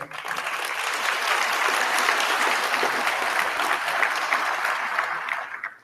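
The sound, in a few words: audience applause for graduates at a graduation ceremony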